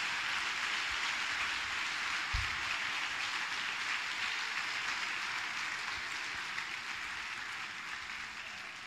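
Faint, distant applause from a large church congregation, a soft continuous patter that slowly fades, with a couple of low thumps early on.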